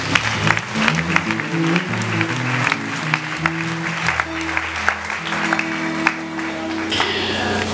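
A church congregation claps and applauds during a Holy Spirit worship service, a steady wash of clapping with sharp individual claps over low sustained music.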